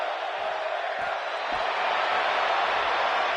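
Arena crowd noise in the wrestling game WWE 2K18, a steady, dense roar of cheering spectators that swells slightly toward the end, with faint commentary voices underneath.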